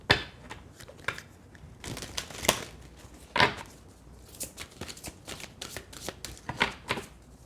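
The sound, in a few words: tarot cards being shuffled and handled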